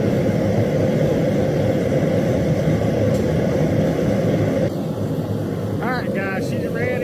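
VEVOR propane blacksmith forge burner roaring steadily and loudly up close, a constant broadband rush that drops slightly in level partway through, with a few brief squeaky tones near the end.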